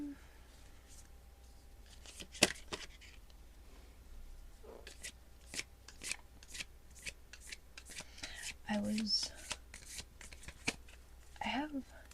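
A deck of playing cards being handled and shuffled up close in a quiet room, with soft riffles and snapping flicks scattered through, while a person speaks softly at times.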